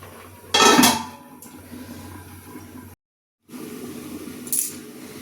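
A lid clanks down onto a metal cooking pot of simmering chicken curry, one sharp clatter followed by faint kitchen rustling, a brief silence, then a smaller metallic tap.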